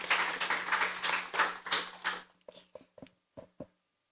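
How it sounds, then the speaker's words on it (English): A short burst of applause from a small studio audience at a junior science quiz fades after about two seconds, leaving a few scattered, isolated claps. "Let's give them a round of applause"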